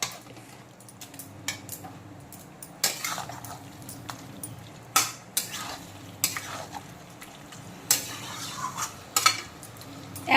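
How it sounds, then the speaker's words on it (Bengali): A spoon scrapes and clanks against a pan while country chicken curry with onion, tomato and green chilli sizzles softly underneath, with intermittent sharp metallic strokes over a low frying hiss. "মাংসটাকে নাড়াচাড়া করে দেব।"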